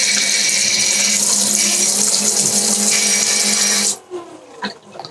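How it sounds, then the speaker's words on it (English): A sump pump runs aboard an Axopar 37 boat, a steady loud mechanical hum with a high whine for about four seconds, then cuts off, leaving faint knocks and drips. "you hear that pump running in the background"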